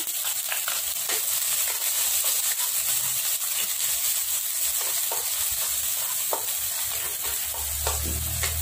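Garlic and shallots fry in a pan while Maggi noodles are being cooked, giving a steady close-up sizzle with scattered stirring clicks and a low rumble entering near the end.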